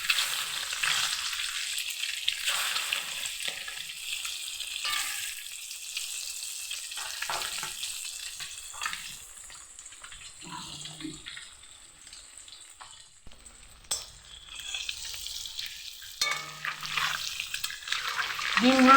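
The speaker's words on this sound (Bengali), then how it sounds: "বাকি ডিমগুলোকে ভেজে নেব।" Boiled duck eggs coated in turmeric sizzle in a frying pan, a soft continuous crackle with occasional clinks and stirring noises and a few quieter pauses, heard up close.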